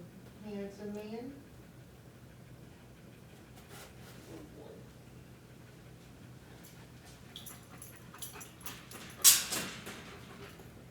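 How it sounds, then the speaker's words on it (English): A dog near the camera gives a short whimpering, yipping vocal burst at the start, then goes quiet under faint room noise, with a sharper clatter near the end. "I'm getting barked at, Mom."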